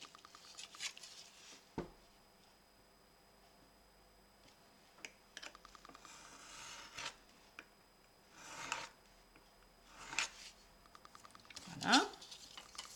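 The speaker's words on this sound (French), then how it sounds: "Ceci, on va le couper." Scissors snip through paper for a scrapbook mini desk in a few separate close cuts spread over a quiet table scene, with a crisp sharper snip near the end and some talking in between.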